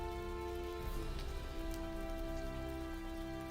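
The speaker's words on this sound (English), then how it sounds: "You can hear the sound of rain." Steady rain falls outside beyond a door, a dense continuous hiss of drops on a surface with a faint underlying hum, even in loudness throughout with no voices.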